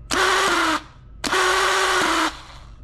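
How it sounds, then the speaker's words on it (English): An engine starter motor, removed and powered directly by a cable for a bench test, whirs in two bursts, a short one then a longer one, each ending abruptly, close and loud. "Now you get a cable and you give power, you turn on the starter."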